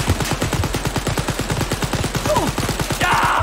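Rapid close-combat gunfire in the shooter game Wolfenstein: Youngblood, a loud, dense fusillade of sharp shots fired in fast succession for several seconds without pause, with no one talking.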